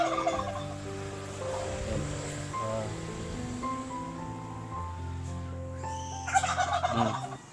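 A turkey gobbles repeatedly in rapid warbling bursts, fairly close, with a soft outdoor rustle underneath and a few sharper calls near the end.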